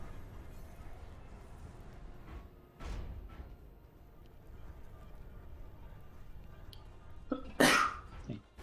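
One abrupt, close sneeze bursts out near the end of a quiet indoor stretch, preceded by faint thumps and a soft breath.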